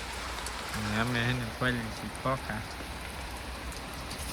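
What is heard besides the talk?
steady rain falling in a village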